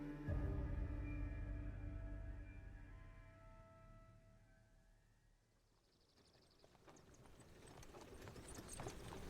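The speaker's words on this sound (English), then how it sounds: "we watch a horse-drawn carriage pulled by two well-kept hackney horses" A carriage pulled by two well-kept hackney horses, with a clip-clop of hooves rising gradually after a fading low rumble, soft and somewhat distant, no talk.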